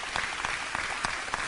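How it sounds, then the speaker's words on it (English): Crowd at a Blytheville community event giving a short burst of applause, quick, dense clapping at moderate level, slightly distant. "let's give Blytheville a round of applause there"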